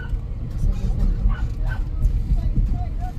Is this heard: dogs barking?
yes